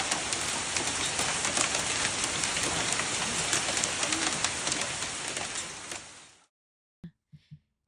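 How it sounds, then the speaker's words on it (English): Heavy rain pours down steadily as a dense, loud hiss for about six seconds, then cuts off abruptly, leaving a few soft cooing bird calls in the quiet. "And like seeing the rain coming down on the roadway."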